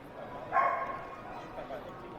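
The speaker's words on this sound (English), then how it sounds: "if you heard that in the background, that is what's known as a dog." A single faint dog bark rises from the background of a busy caravan trade show hall, heard faintly under a steady crowd murmur.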